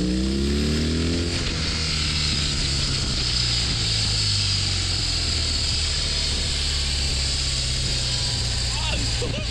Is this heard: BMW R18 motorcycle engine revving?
yes